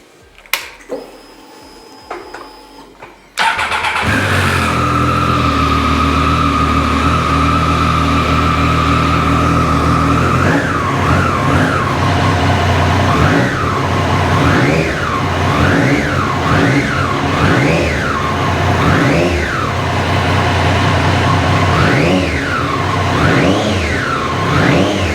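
A Triumph Street Triple 765 motorcycle starts with a short crank and catches, then runs loudly and close at a steady idle, followed by repeated rising and falling throttle blips.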